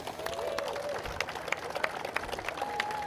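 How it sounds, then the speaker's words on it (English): A crowd applauds at a drifting event, with steady dense clapping and a few sharper claps standing out, a whine of distant engine or feedback drifting underneath. "All right, quick round of applause for Brennan Wallstrom."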